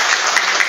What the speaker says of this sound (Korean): 시장님 박수 한번 쳐드리고